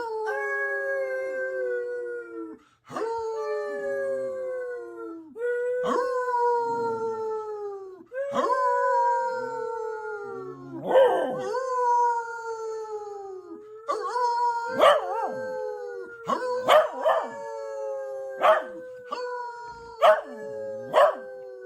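Several people howl in turn and then together to imitate a wolf pack. The long, sliding wails overlap, first one by one and then in a rising chorus, and short yips and laughs come in near the end.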